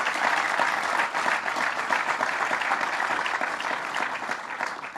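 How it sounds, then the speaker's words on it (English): Sustained applause from a crowd, dense and steady clapping filling the whole stretch without letting up, no voices standing out. "But again, another round of applause for John Flanagan, John Bonasek, and Aileen"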